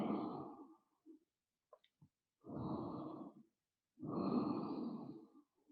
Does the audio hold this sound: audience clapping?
no